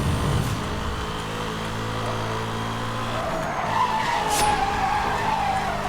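Car drifting in the racing video game Need for Speed: Hot Pursuit (2010), a continuous loud tire skid and squeal over a steady engine roar, with a rising squeal near the end.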